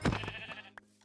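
A sheep in the Minecraft video game gives one short, close bleat that fades quickly, followed by a faint second sound.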